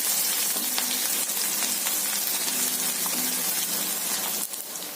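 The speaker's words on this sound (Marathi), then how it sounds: "हे चांगलं आता सगळं मिश्रण लाल होईपर्यंत परतायचं आपल्याला व्यवस्थित।" Onion and chili mixture frying steadily in a pan, a continuous close sizzle with faint crackles throughout, no talking.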